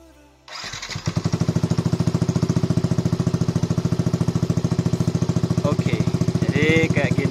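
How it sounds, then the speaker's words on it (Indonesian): A Yamaha NMAX scooter starts, then its BEST3 aftermarket exhaust settles into a loud, rapid, even putter at low idle, with a faint voice near the end. "suara dari knalpot bestri ini dalam keadaan motor ini masih hidup lamsam aja"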